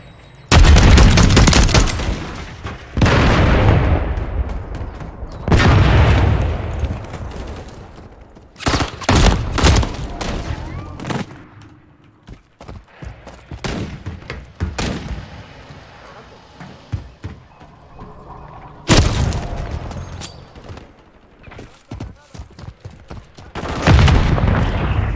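Heavy explosions and bursts of rapid gunfire fill a Call of Duty Modern Warfare III match, loud booming blasts recurring at intervals with quieter crackling shots between them.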